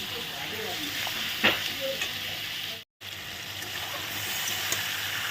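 Pointed gourd poppy seed curry sautéing in a pan, a steady close sizzle of frying with scraping stir strokes and a brief cut partway through.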